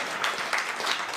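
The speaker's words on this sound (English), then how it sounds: "A little round of applause for that." Brief applause from a studio audience on a music quiz show, a short, fairly soft patter of clapping.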